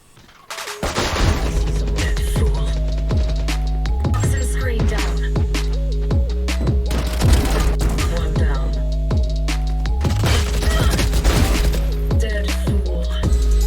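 Sustained rapid gunfire in the tactical shooter game Valorant, loud and continuous with dense overlapping shot bursts and ringing weapon tones, brief pauses near four and ten seconds, no talking.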